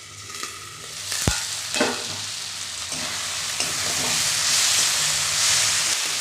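Tender flat bean seeds sautéing in a hot pan give a steady, close sizzle that swells toward the end, with a few sharp scrapes and clatters of stirring early on.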